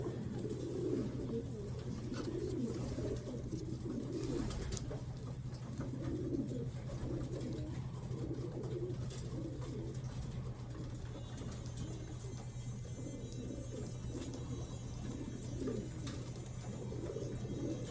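Breeder pigeons coo in soft, repeated rolling phrases throughout, close and steady over a constant low mechanical hum, with no talking.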